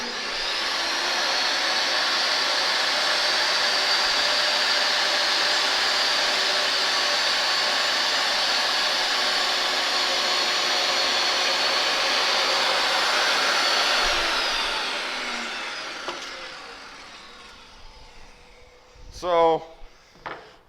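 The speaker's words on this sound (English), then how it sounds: "We ran it through a table saw, we ripped it." Table saw ripping a wooden window sill piece, a loud steady whine for about fourteen seconds, then spinning down, followed by brief clatter and a short voice at the end.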